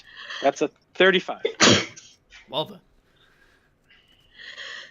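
A single sharp sneeze bursts out during a tabletop role-playing game session, loud and close, among players' casual talk before and after.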